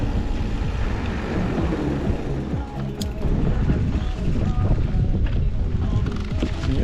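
Steady headwind buffeting the microphone on a seafront embankment in Crimea, a continuous rough low roar that persists throughout, with a faint rumble of traffic or motor underneath.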